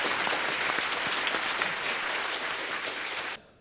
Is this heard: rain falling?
no